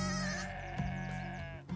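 A goat lets out a single close, wavering bleat lasting under two seconds, with a faint shuffle at the end.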